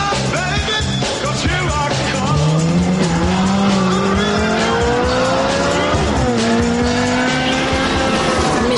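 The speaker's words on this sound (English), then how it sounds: "the stiffer suspension would make the car twitchy and hard to slide" A Ferrari 360 Challenge Stradale slides on track with its tires squealing loudly. The engine's rising, sweeping whine climbs, dips and climbs again, close and continuous throughout.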